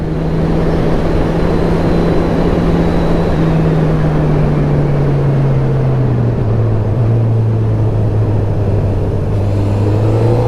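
Honda CB1000R motorcycle riding along country lanes, a loud, steady engine drone heard close up from the bike, its pitch easing lower and then holding as the rider changes speed, with wind noise throughout.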